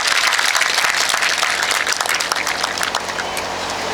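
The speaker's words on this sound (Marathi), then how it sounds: "जोरदार टाळ्या वाजू द्या" An audience at a speech applauds vigorously, a dense, loud burst of many hands clapping that continues steadily and eases only slightly toward the end.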